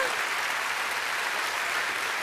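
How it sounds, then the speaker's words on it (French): Audience applause inside the Olympia concert hall in Paris, a thick continuous roar of clapping from a large crowd, steady and sustained throughout. "On peut les applaudir quand même."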